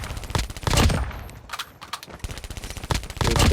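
Rapid SMG bursts in the shooter game Call of Duty Mobile, loud and close, with several stuttering strings of automatic fire separated by short pauses.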